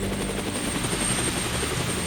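Coast Guard helicopter, a steady, even rotor thrum with a constant engine whine, continuous throughout and heard alone without speech.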